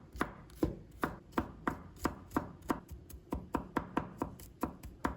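A knife minces garlic on a cutting board in quick, steady chops, about four strikes per second, each a crisp close tap with no talking.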